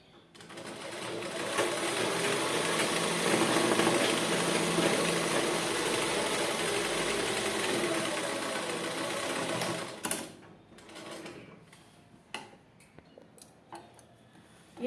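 A sewing machine stitches fabric for a ladies' dress in a steady, close whirring run for about ten seconds, then stops, leaving a few scattered clicks and handling knocks.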